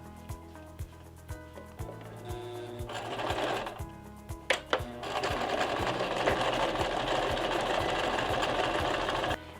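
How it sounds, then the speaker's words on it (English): A sewing machine stitches pin-up print fabric along the edge of denim jean shorts, starting with slow, spaced needle thumps and then speeding up into a steady, close mechanical whir. "I'm gonna try and sew with this foot along the edge of my pinup fabric."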